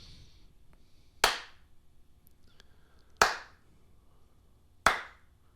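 Three sharp, isolated hand claps spaced about two seconds apart, each a loud, close crack that rings briefly before quiet returns, with a faint, low voice murmuring between them.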